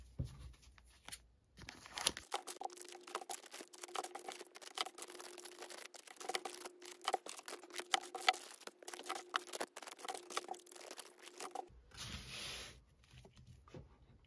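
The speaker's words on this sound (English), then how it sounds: "So let's cut these open." Packaging holding ten 2023 one-ounce silver Britannia coins is cut open, giving close, faint crinkling, tearing and scraping with small clicks and rustles throughout, under a steady faint hum.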